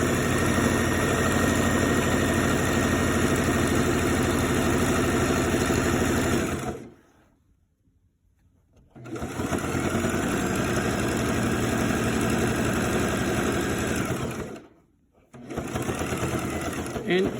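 A sewing machine stitches a shirt collar seam, running in a steady, loud, fast mechanical whir that halts briefly twice before starting again, first for about a second and a half, then for a shorter pause.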